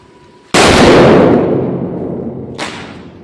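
A firecracker bursts with a single sharp, loud blast whose echo rolls away slowly, followed by a second, fainter pop in the distance.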